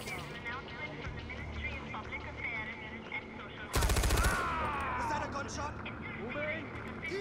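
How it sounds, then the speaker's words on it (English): Gunfire in the video game Far Cry 4, a sudden loud burst of rapid shots cutting through the game soundscape midway, followed by lingering noise and tonal sweeps. "Was that a gunshot?"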